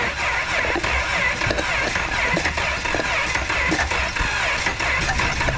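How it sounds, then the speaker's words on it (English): A Chrysler 3.6 engine is cranked after dying on the highway, apparently flooding itself. The noise is a steady, continuous churning hum with a faint rhythmic shuffle that runs through the whole clip at an even level, with no voices. "go ahead and crank it"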